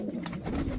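Pigeons coo softly in a loft, a couple of brief low throaty coos close by over a muffled background hum.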